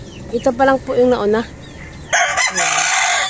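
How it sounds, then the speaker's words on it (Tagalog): Pet rooster in a backyard garden: one loud, close cock-a-doodle-doo crow rising and falling over about a second, followed by someone speaking in Filipino over a bright background hiss. "Ayan, ang ingay ng ating manok."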